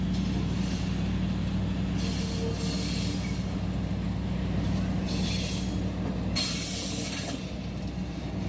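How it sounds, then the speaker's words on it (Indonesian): Rumbling Sindro local commuter train arriving at its final station, with rolling wheels and bursts of high metallic squealing as it moves slowly, steady and close. "Akhirnya kereta api lokal Sindro tiba di tujuan akhir"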